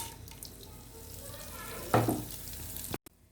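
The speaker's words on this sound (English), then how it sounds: "Take 1 spoon black gram mustard seeds, 1 spoon jeera, 2 red chilies and some curry leaves. Heat the oil and add them into the oil." Mustard seeds, jeera, red chillies and curry leaves hit hot oil for a long bean and potato curry, bursting into a loud, close sizzle that flares suddenly and then crackles on steadily before cutting off abruptly.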